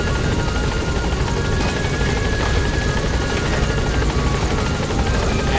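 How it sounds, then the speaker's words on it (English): Helicopter in the video game Metal Gear Solid 5, a steady, loud rotor drone with fast chopping blade pulses and engine whine, holding constant throughout with no voices. "And up we go on the float helicopter swag."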